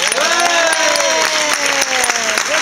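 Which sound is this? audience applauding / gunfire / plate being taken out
audience applauding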